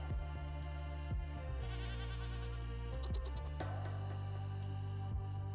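Goat bleats in the video game Vintage Story, several drawn-out wavering calls at a steady distance over a constant background hum, with no talking.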